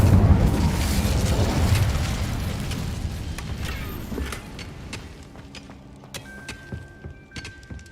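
An Incendio fire spell in Hogwarts Legacy erupts with a heavy whooshing boom, then a crackling, rumbling burn trails off over several seconds into quieter ambient game sounds.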